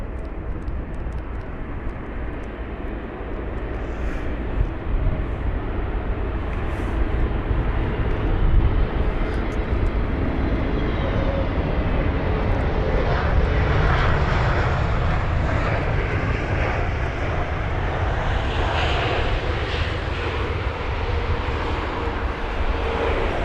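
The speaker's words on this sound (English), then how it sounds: "It's actually the first Iberia jet that we've seen of the day as well." An Iberia jet airliner arriving at London Heathrow gives a long, broad roar that swells gradually to a peak around the middle and then holds a steady rumbling whine as it passes fairly close.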